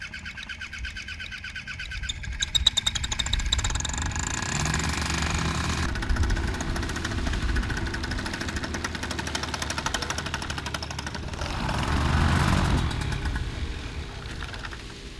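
A paramotor engine on a pilot's back runs continuously with a rough, buzzing drone in still, cold air, fairly loud and steady, swelling louder around the twelfth second.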